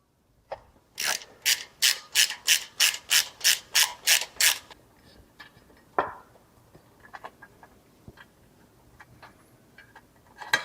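A ratchet backs out the 7/16 breather bolts on a Harley-Davidson Road Glide: a fast, even run of about a dozen loud, close clicks, followed by a single sharp clack and a few faint ticks.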